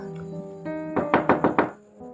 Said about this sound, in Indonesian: Tiba-tiba terdengar ketukan di pintu.